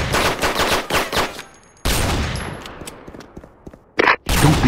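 Loud, close video-game gunfire: a burst of rapid automatic shots, a sharp single blast that decays away, then a few more quick shots near the end, with no voices.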